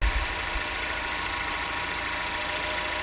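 Cadillac ATS engine running steadily after a PCV hose replacement, a continuous close idle hum with a low rumble and a slight bump at the start, no one speaking.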